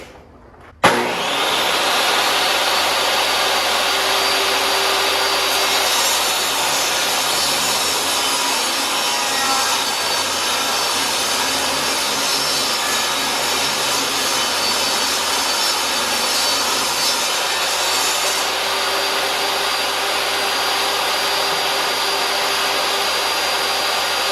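A loud power saw grinds steadily through wood, a continuous harsh whine lasting the whole stretch without pause or voices.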